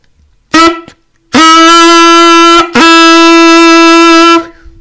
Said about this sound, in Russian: звук с атакой, когда звук резко начинается, четко с четкого места, сразу громко